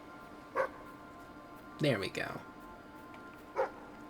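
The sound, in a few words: dog barking in the video game Fable III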